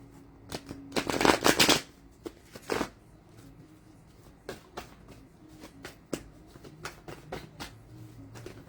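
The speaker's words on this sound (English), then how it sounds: "Shuffling up a little bit." Cards riffle-shuffled close by, with a loud burst of shuffling early on, then scattered taps and softer card shuffles in a quiet room.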